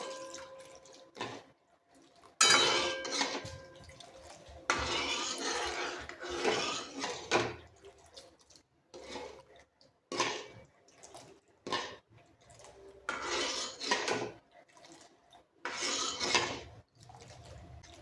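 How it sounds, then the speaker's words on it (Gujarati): Besan batter for kadhi is stirred into boiling water in a pot, giving intermittent scraping, sloshing and clinking bursts separated by short pauses, close and fairly loud, with no talking. "તો આ રીતનું આપણે થોડું થોડું નાખતા જઈને આપણે એને હલાવી લઈશું"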